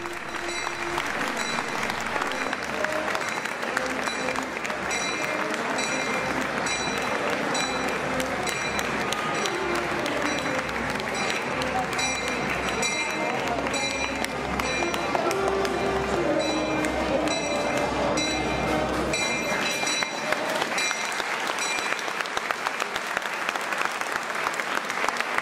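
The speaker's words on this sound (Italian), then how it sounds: "Sono partiti gli applausi" A large crowd applauding in a town square during an Easter procession, dense sustained clapping with voices mixed in, loud and continuous before easing slightly near the end.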